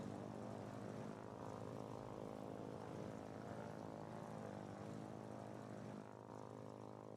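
A propeller airplane in the war game Foxhole drones steadily through its climb after takeoff, a continuous close engine hum with a thick harmonic buzz that holds level throughout, with no voices.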